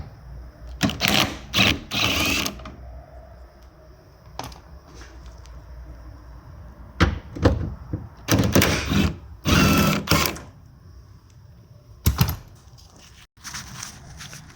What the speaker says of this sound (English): So let's go ahead and undo the nuts that we have.